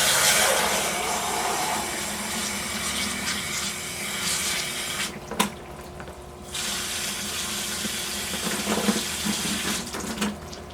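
Tap water runs steadily into a sink or container while mixing a DIY concrete birdbath, a continuous close splashing flow with brief interruptions in the middle.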